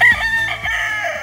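A Filipino-breed rooster on a farm in cool upland Kintamani, Bali, crows loudly and close by in one extended, wavering call with no talk over it.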